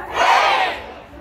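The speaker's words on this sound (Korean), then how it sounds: "가장 큰 소리로 헤이를 한번 외쳐주시면 됩니다" A crowd shouts a single loud, short "hey" in unison, swelling quickly and fading within a second.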